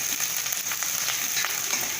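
Onions and curry leaves frying in oil for a banana stem pulao, making a steady close sizzle with light crackles and soft spatula touches throughout.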